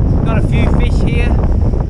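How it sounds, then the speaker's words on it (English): Strong wind buffeting the microphone at Parsons beach during fishing, a loud continuous roaring rumble dominating throughout, with a voice talking over it. "It's pretty windy"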